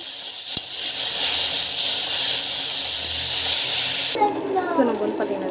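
Ingredients are sautéed with salt in a hot pan, giving a loud, steady steamy hiss that cuts off abruptly, followed by softer clatter and a voice.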